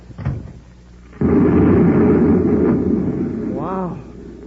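An explosion sound effect from a 1953 science-fiction radio drama, Space Patrol, bursts in suddenly as a loud, roaring rumble that holds for several seconds, with a brief voice just before it and another voice near its fading end.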